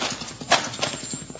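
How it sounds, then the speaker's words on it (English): Galloping horse hooves in a 1951 Western radio drama, quick clip-clopping beats with a brief whinny, close and fairly loud, fading as the riders depart. "Horses, they're riding off."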